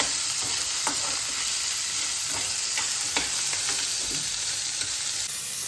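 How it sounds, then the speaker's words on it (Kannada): Onion, green chili and garlic fry hard on high flame for paneer bhurji, a loud, dense sizzle broken by sharp spatula strokes against the pan. "ಹಸಿ ವಾಸನೆ ಹೋಗೋವರೆಗೂ ಫ್ರೈ ಮಾಡ್ಕೊಬೇಕು"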